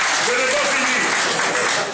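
A press conference audience applauds with dense, steady clapping that fills the room, heard close and continuous for a couple of seconds.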